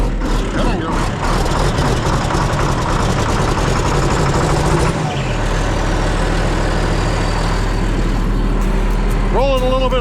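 A John Deere 8430 tractor engine runs loud and close as it warms up, a heavy rumbling idle with a brief dip midway and a rising whine near the end.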